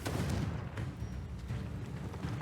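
Confringo blasting spells exploding in the Hogwarts Legacy video game on PC, a dense run of loud booming blasts and rumbling impacts in quick succession.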